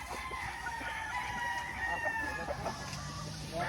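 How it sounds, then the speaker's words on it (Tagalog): Game fowl battle stags on a gamefarm in Tagum City crow repeatedly, with several loud, drawn-out calls overlapping and clucking mixed in against a busy farmyard background. "Mga battle stags na nandito,"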